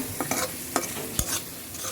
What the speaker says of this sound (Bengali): এটারে একটু তেলের মধ্যে মশলাটা হালকা ভাজা ভাজা করব।